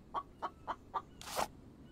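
A chicken in a building survival video game clucks four times in an even rhythm, followed by a louder, rougher squawk, clear and fairly close with no talking.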